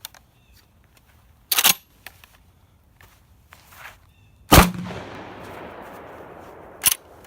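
A DDI QBZ bullpup shotgun fires Remington ammunition outdoors, three loud sharp reports spaced apart, the middle one followed by a long fading echo across the open range.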